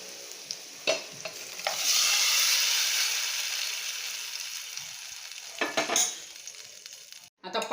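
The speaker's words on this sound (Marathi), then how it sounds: "थोडासा तो लाल भेला आहे म्हणून असा परतून घ्यायचा" A Puneri sweet taro leaf vegetable mixture sizzles loudly in a pan, with a spoon stirring and scraping against the metal in a few sharp knocks.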